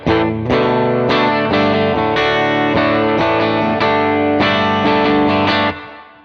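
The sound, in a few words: plate reverb pedal effect on guitar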